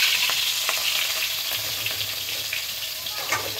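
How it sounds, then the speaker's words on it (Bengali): Fish sizzles and crackles in hot oil in a home kitchen, a steady dense frying hiss with small pops throughout, fairly close and with no voices. "তেল গরম হয়ে গেছে অলরেডি"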